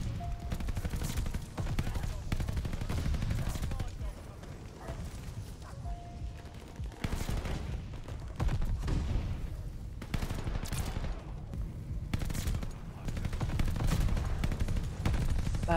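LMG machine gun fire in the video game Call of Duty: Vanguard, with bursts of gunshots and mechanical clatter coming and going at moderate, somewhat distant levels amid other game noise.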